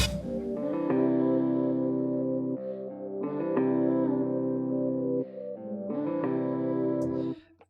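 Pitch-shifted vocal made with a vary-speed tape-style effect, sustained sung phrases with a chorus-like warble, echo and reverb, moderately loud in three held sections with no speech.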